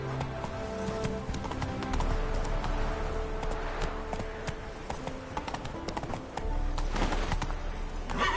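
Horse hooves clip-clopping at a steady galloping rhythm in The Witcher video game, loud and continuous throughout with a faint whinny, no speech.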